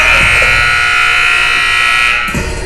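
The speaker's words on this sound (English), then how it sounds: "That buzzer signifies that we are ready to begin play" A loud, sustained electronic buzzer blares at a college men's basketball game in a gym, signalling the start of play, holding steady for over two seconds before cutting off.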